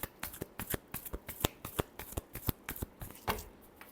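Tarot cards are shuffled by hand in a quick series of crisp, close riffling slaps, about a dozen sharp bursts in an uneven rhythm with little else audible.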